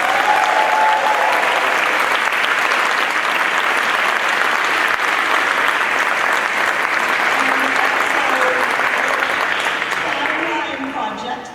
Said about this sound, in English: give them all one more big round of applause